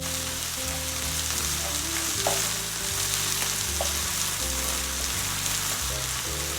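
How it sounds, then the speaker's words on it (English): Beef and shrimp stir-fry in hot oil in a pan for black bean sauce noodles, a loud, continuous sizzle with crackling pops and scraping stirring strokes, no voices. "just move it around to lightly kind of stir fry it in the pan with the oil"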